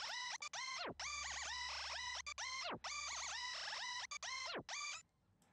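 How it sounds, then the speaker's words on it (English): Bright synth melody in a trap beat, lightly filtered and panned slightly left and right, plays in stuttering phrases with falling pitch dives over a sustained low 808 bass, with no talking. "Did some panning so it pans left and right slightly."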